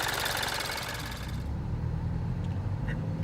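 Engine of a 2013 Mini Cooper S Coupe running during a road test, a steady close mechanical hum with a brighter, rougher edge at first that settles into a lower drone.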